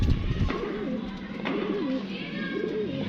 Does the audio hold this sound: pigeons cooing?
yes